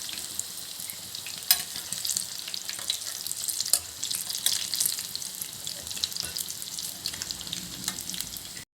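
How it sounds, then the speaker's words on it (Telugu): Capsicum snacks fry in hot oil in a pan while being stirred to cook both sides, making a steady close sizzle with scattered sharp crackles and pops throughout. "మొత్తం ఇలా కలుపుకుంటూ టూ సైడ్స్ ఫ్రై చేసుకోవాలి"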